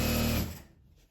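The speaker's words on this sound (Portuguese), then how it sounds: "Aqui eu vou dobrar e passar uma costura dos dois lados" A sewing machine stitches a folded fabric strap for a small scrap-fabric phone pouch, a brief close whirring run that stops after about half a second and fades into quiet.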